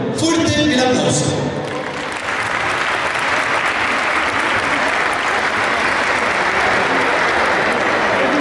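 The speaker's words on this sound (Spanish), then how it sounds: "Fuerte el aplauso." Loud, steady applause from an audience at a school cueca dance championship welcome, opening with a brief burst of music before the clapping fills the whole stretch without letup.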